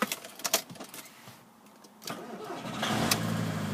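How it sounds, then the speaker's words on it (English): Volkswagen Golf GT TDI diesel with manual gearbox starting: a few clicks and key sounds, then the starter cranks and the engine catches into a steady, close, gruff idle. "Getting the vehicle started."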